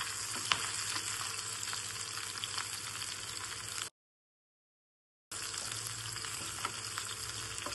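Onion sizzles and crackles in hot oil in a pan, a steady close frying hiss with small pops and stirring scrapes, cut by a brief silent gap before the sizzle resumes.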